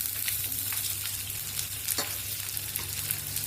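Dried red chillies and garlic sizzling in hot oil in a pan for an adamant creeper (pirandai) chutney, a steady close frying crackle with occasional stirring scrapes and no voices.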